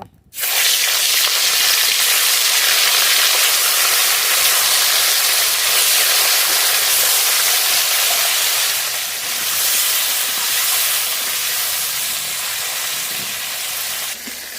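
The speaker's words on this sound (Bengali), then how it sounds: "গ্লাস কাপ মাছ আগে ভেজে নেব।" Glass carp pieces fry in hot mustard oil in a pan, a loud, steady sizzle and hiss that starts abruptly and runs continuously, easing slightly toward the end.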